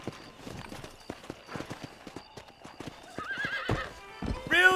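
Horse hooves clip-clopping in a steady walking rhythm in the Red Dead Redemption video game, ending with a loud whinny, with faint talk in the background.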